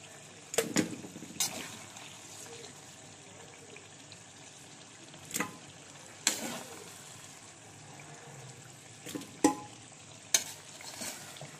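Cooked masala is scooped from a pan with a spatula, a quiet sizzle underneath sharp scrapes and clinks that come at irregular intervals, about seven or eight strokes close by.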